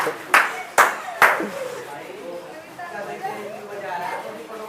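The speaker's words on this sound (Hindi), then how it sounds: "तो ताली बजा दो पिछले वाले।" Three sharp bursts of applause from students in a classroom during a chemistry lesson, then fading into low chatter and a teacher's voice.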